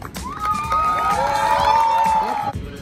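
School teams at a sports day cheering together, a sustained crowd roar with children shouting and rising whoops, loud and continuous for a few seconds before dropping off.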